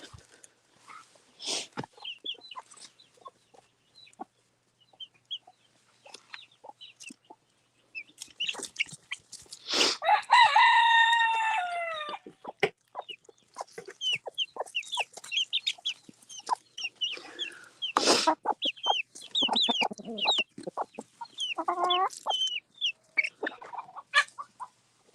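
Backyard chickens clucking, including a frizzle hen, with a rooster's loud harmonic crow rising mid-way and scattered bird calls around it, near and fairly busy throughout.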